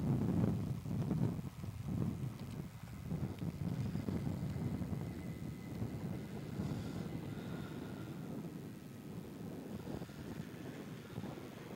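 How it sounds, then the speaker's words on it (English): An Airbus A320 trundles along the runway at Melbourne Airport, a steady low engine rumble heard from a distance under wind noise, fairly constant and fading slightly. "A320 trundling along the runway right now"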